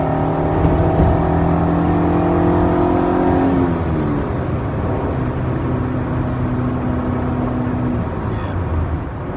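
A 1993 Honda Del Sol SI cruises at 60 mph on a highway, its engine droning steadily under loud, constant road and wind noise, with the engine tone shifting partway through before settling again.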